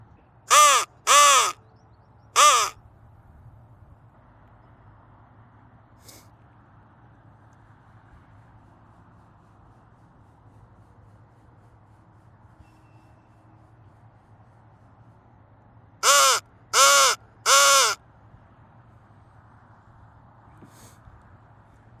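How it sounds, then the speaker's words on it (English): Crows in a small field caw loudly and close in two bursts of three harsh calls each, the first at the start and the second near the end, with a quiet low hum and faint ambient noise in between. "I don't know if you hear that. They're chirping away"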